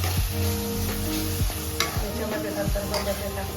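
Malvani masala with chilli and coriander powder is stirred in hot oil in a pan, a continuous close sizzle broken by repeated scraping strokes of the spoon at a regular pace.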